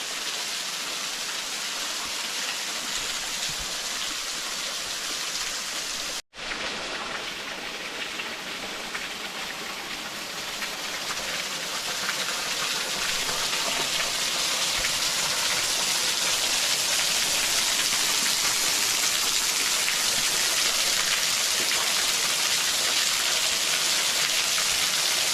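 A waterfall at the old resort ruins of Frankfurt Mineral Springs roars as a steady, dense wash of falling water, loud and continuous throughout with only one momentary break.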